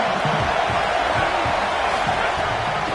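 A college football stadium crowd roars in a steady, dense wash of cheering and noise during a second-down play, loud and continuous with no clear breaks.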